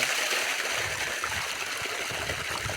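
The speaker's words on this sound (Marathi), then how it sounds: "पाणी पाईप बंद करते वेळी पाणीचं स्पीड किती येते तुम्हाला थोडक्यात दाखवणार आहे" Steady rushing water pours from a pipe under pressure, a continuous close hiss and splash with no break across the whole stretch.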